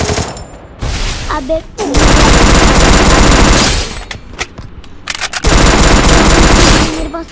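Thompson submachine gun in a video game firing in long, loud automatic bursts with short pauses between them, a man's brief exclamation over the gunfire.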